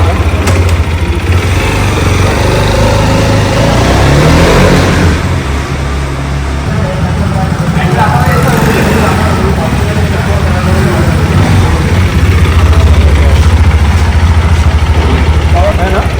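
A new motorcycle's engine runs at a steady idle, giving a loud, continuous low rumble close by, with voices and outdoor background noise over it throughout.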